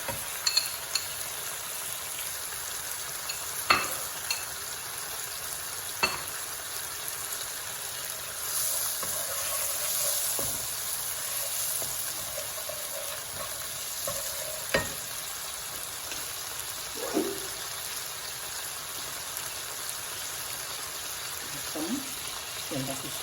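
Spices and a splash of water sizzle steadily in a hot pan on a home stove, a continuous close hiss broken by a few sharp clinks and scrapes of stirring.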